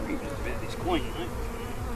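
Honey bees buzz steadily around a hive of brood, pollen and nectar, a dense, continuous hum of many insects close by with a few louder passes near the middle.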